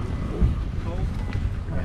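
Wind on a cold, snowy day buffets the microphone in a steady, fairly loud low roar with brief gusts, no other sound standing out.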